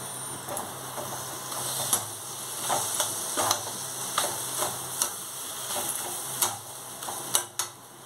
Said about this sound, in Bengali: এবার এটা ভালো করে নেড়ে নেড়ে পুরটা বানিয়ে নিতে হবে।